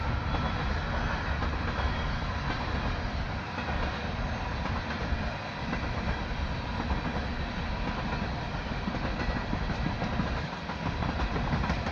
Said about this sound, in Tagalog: The train is eastbound, and it's got oil tanks